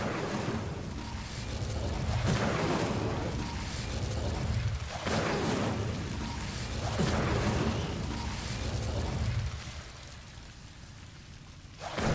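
Incendio fire spell in Hogwarts Legacy, cast repeatedly as rumbling, whooshing bursts of flame in steady waves that fade near the end.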